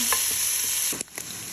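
Pork sizzles loudly as it fries in oil in a hot pot, with a few scraping stirs breaking through the steady crackle.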